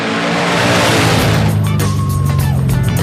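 A drag race car launching down the strip and pulling hard through the gears, a loud roaring engine with rising pitch sweeps and a sharp shift near the end, crowd and announcer noise faintly behind.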